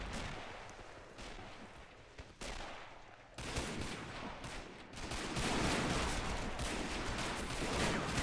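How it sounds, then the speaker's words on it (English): Machine gun fire, likely from an MG39, in the Men of War World War II video game, amid a battle near Dunkirk, rapid crackling volleys over a dense continuous din of gunfire that grows louder. "That was a good volley, probably by an MG39."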